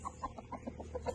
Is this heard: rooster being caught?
yes